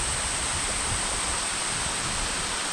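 A large waterfall amid lush green rainforest, a loud, continuous broadband roar of rushing water that stays steady throughout.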